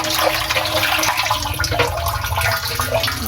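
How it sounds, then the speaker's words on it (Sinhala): Water gushes and splashes steadily into a fish tank, a close, continuous rushing pour with bubbling and no voices. "එහෙනම් මේකට වතුර පුරවමු අපි"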